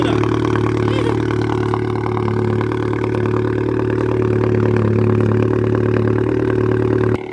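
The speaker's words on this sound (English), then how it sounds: "listen to that cold start. That is stupid. It's so loud." A car cold start produces a loud, close engine roar that holds steady with a clattering edge, idling high throughout before cutting off abruptly at the end, with no one speaking.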